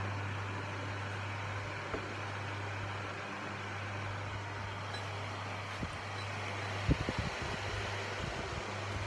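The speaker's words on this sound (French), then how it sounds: "si comme moi vous avez un petit ventilateur à main, ça c'est très pratique" A small handheld electric fan hums steadily with a low, constant drone, with a few faint clicks and handling knocks near the end.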